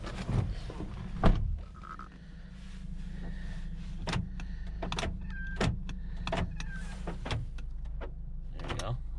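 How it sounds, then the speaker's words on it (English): Power door locks on a 2012 Honda Accord clunk in a series of sharp, close thunks between brief whirs of motor, with quiet talk inside the car. "We'll do the door locks."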